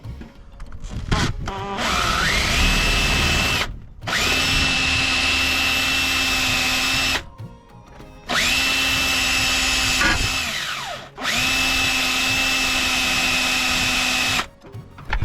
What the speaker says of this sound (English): I'm going to drill the thing out.